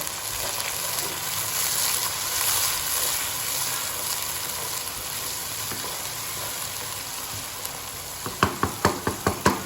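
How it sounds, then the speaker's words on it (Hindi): Onions with ginger garlic paste fry in a pan for an aloo baingan sabzi, giving a continuous moderate sizzle and crackle, then a quick run of sharp spoon taps on the pan near the end. "इनको अच्छी तरह से हम फ्राई करेंगे जी।"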